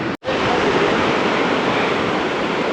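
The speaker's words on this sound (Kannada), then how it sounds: "ಅಲ್ಲಿದೆ ನೋಡಿ ಬಂಡೇಜ್ ಫಾಲ್ಸ್." Bandaje Falls, a waterfall reached on a trek, gives a steady, full roar of falling water, broken only by a brief dropout near the start.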